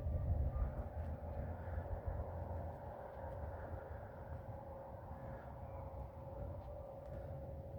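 A steady, low rumble of trains at a train yard where trains stop and reload, with continuous deep mechanical drone and a faint tonal hum throughout, no voices.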